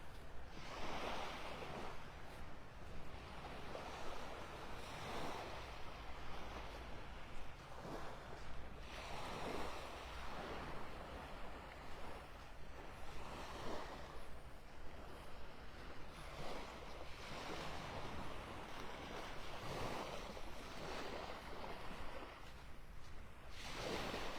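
Ocean waves roll onto a beach in North Naples, Florida, with a continuous wash of surf that swells and recedes in broad surges, under wind rumbling on the microphone and no voices.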